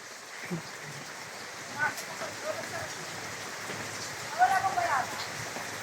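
Rain falls steadily as a soft, even hiss with scattered drops while children bathe in it outdoors, fairly faint, with occasional faint voices in the background.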